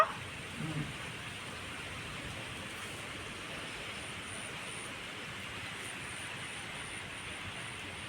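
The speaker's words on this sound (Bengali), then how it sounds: "সেই হাওয়া হচ্ছে শব্দ হচ্ছে বৃষ্টির" Wind-driven rain falls outside an open door fitted with a grille, a steady broadband hiss and rush that holds evenly for the whole stretch, with a brief low thump near the start.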